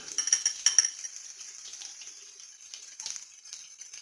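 A big ordinary tablespoon scrapes and clinks against a jar while scooping minced garlic, with a few light metallic taps early on, then softer scraping close and fairly quiet.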